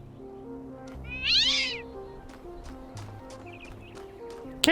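A cat in the video game Talos Principle 2 gives one clear, rising meow amid soft background music and light footsteps, with a few faint chirps after it.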